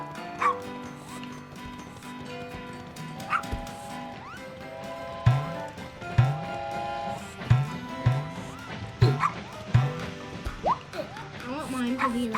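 A dog in the video game Wobbly Life barks repeatedly in short, fairly loud yaps spaced about a second apart, mixed with voices and background game sounds.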